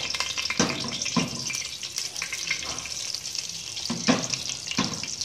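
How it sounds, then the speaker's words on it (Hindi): Tempering spices crackle and sizzle steadily in hot oil for moong dal mangochi, with occasional louder spits and pops, close and bright. "हम इसमें ये तड़का डालते हैं।"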